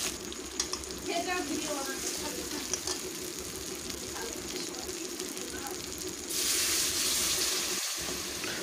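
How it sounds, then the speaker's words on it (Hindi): Chicken frying in masala in a kadhai over a low flame, a soft steady sizzle with occasional stirring clatter, a louder hissing burst near the end. "इस मसाले के साथ चिकन को एकदम धीमी आंच पे भूनिएगा।"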